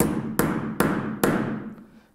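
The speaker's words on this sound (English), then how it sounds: "this is where you just need a hammer" A hammer strikes a screw punch three times to set metal snap fasteners, each blow a sharp, close knock at an even pace, followed by a short fading tail.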